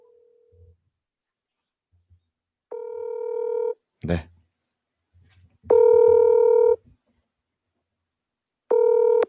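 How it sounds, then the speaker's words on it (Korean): A telephone call is dialed out during a live broadcast: a short tone, a clunk, then three loud, steady ringback tones with gaps between them, and someone briefly speaks. "아까 김보성 씨 통하다가 끊겼는데 한번 제가 전화 연결을 제가 한번 해보겠습니다"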